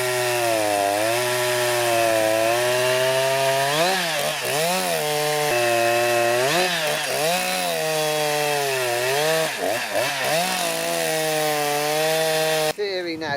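A chainsaw fitted to a beam maker rips along timber, its engine holding a loud steady whine with repeated dips and surges as the cut bogs and recovers, ending abruptly.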